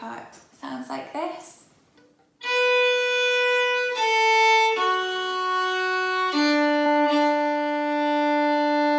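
Fiddle plays the sustained, bowed ending phrase of the B part of the Manx tune Keayrt Hug Mee Graih, close and clear, after a brief bit of speech at the start.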